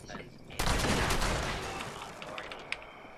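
Burst of gunfire in the online shooter game Fallout 76, a loud sudden onset of rapid shots that decays into a rumbling tail, with a sharp single crack near the end.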